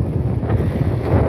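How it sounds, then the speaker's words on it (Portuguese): Wind buffets the microphone beside the water on a fishing outing, a steady low rumble with gusting blasts and no voices. "Eu já tô gravando aqui embaixo do vento pra não ficar tanto barulho."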